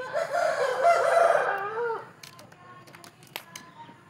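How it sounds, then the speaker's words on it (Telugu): A heavy, high-quality rooster of a good breed crows once, loud and close, the call lasting about two seconds before fading into a few quieter clucks and clicks. "చూడండి కోడిపుంజు, మంచి డబుల్ బాడీ కోడిపుంజు"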